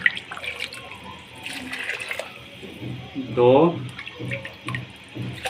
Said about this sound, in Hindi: और ये 3 गिलास मैंने पानी के डाले।